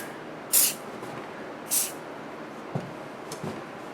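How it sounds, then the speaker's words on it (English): Two short, sharp bursts of Glue Boost aerosol glue accelerator, a second or so apart, close and fairly loud, followed by a few faint clicks and handling sounds, during guitar building. "I have my trusty Glue Boost glue accelerator here. I can just give that a quick spray."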